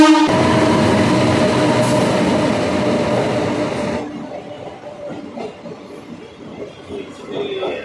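An express train runs past a station, a loud close roar of wagons and wheels with a horn-like tone for about four seconds before fading quickly into quieter station ambience.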